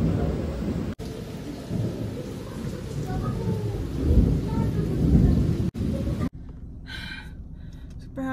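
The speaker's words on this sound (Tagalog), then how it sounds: "Umuulan." Rain falls steadily with a low rumble of thunder rolling underneath at a flower farm in Atok, Benguet, loud and close, with a brief cut near the end.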